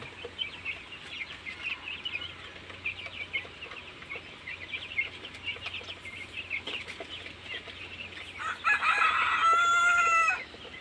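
Broiler chickens clucking softly throughout in an open-air farm, then a rooster crows loudly near the end, with a faint low hum in the background.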